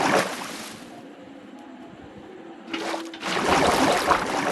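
Water in the Minecraft video game makes a rushing, trickling flow that swells in two bursts with a quieter stretch between them, with no talk over it.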